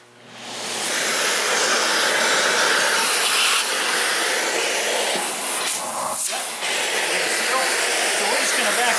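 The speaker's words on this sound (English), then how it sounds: "So we're just going to vacuum over that same spot and see" A Kirby vacuum cleaner roars steadily at close range with a broad, hissy airflow, briefly dipping around the six-second mark as it passes over the same spot twice.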